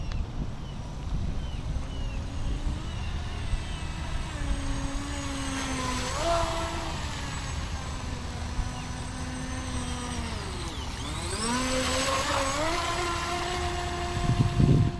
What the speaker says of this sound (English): That's wide open, but that's moving for an 18-inch boat.